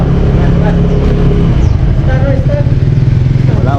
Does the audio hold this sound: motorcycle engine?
yes